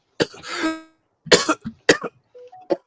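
A few sharp, close coughs in quick bursts, with a short gap after the first harsh one.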